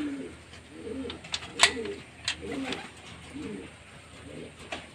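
Pigeons being fed small amounts of grain give repeated low, soft cooing in a steady rhythm, close by, with sharp flutters and clicks scattered throughout.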